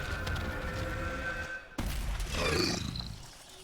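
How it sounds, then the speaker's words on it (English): A creature in Dragon Age Inquisition lets out a loud, rumbling roar that swells and fades over a few seconds, mixed with game background noise and no talk. "You think you can roar to me?"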